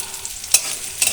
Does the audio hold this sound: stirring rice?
yes